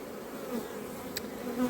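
Honey bees buzz close around a beekeeper at an open hive frame of emerging brood, a faint, steady drone with a brief louder pass.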